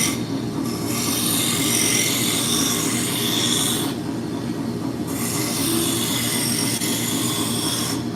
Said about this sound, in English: So we're going to start by using the roughing gouge.